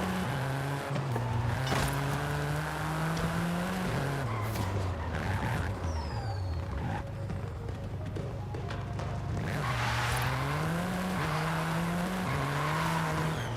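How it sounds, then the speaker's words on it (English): A race car engine in the video game Forza Horizon 5 roars continuously, revs climbing and dropping through gear shifts, with occasional tire squeals, steady and close. "How does this car sound this good?"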